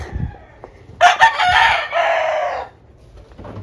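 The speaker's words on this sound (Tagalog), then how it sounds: "Tumitilaok na ang mga manok." A rooster crows once, loud and close, a long drawn-out call after a few faint clucks.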